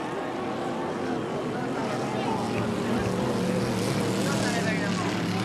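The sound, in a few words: 5-litre racing boats at the Valleyfield regatta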